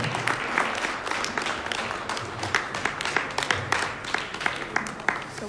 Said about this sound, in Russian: Аплодисменты еще раз, потому что приз вручается только сейчас.